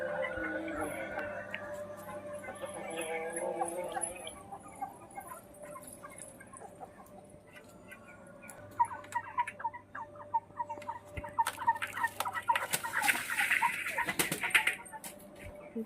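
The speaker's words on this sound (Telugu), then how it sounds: "ఇదిగోండి ఇవి మా కోళ్ళు బయటకు వెళ్ళిపోతున్నాయి." Hens leaving a coop give soft clucks and calls, with scattered rustling and scratching. A brief bright burst comes near the end, all at a fairly low level without speech.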